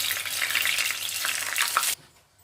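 Vegetable spring rolls (nems) deep frying in hot oil, a loud, dense bubbling sizzle that holds steady and then cuts off abruptly near the end.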